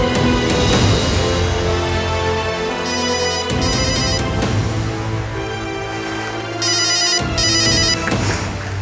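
A telephone ringtone at a home in a TV drama scene rings in two short repeated bursts, each a trilling electronic chime over steady background music, with no talking.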